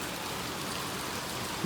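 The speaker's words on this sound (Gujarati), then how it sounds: "વરસાદ ચાલુ છે, બંધ થતો જ નથી." Heavy continuous rain pouring down outside, a dense, unbroken wash of drops striking surfaces, steady and fairly loud with no voices.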